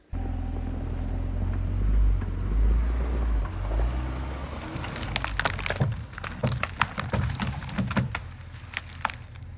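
A vehicle drags a log down a steep snowy hill, with a deep engine rumble up front, then creaking, cracking and thudding wood impacts scattered over continued low rumble, near and fairly loud.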